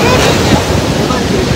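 Loud, continuous rush of the Ganga river's fast-flowing water, a dense broadband roar with wind buffeting the microphone, heard alone for a moment.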